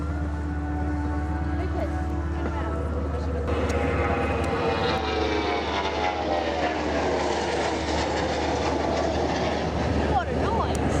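An RNZAF Boeing 757 jet makes a slow, low airshow pass, its engines roaring steadily with a rising whine as it goes by, heard from a distance with a crowd or commentary murmuring underneath.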